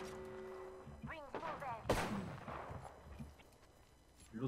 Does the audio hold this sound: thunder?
no